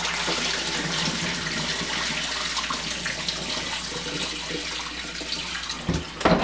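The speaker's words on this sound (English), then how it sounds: "I want to just dump some of that water out." Water gushes and splashes steadily for several seconds, poured out of a filter canister, ending with a few sloshing drips.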